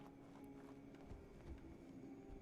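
Faint, rhythmic footfalls from Fallout 4 with the Sim Settlements 2 mod thud softly over a steady ambient game drone and music, several steps spread across the moment with no talking.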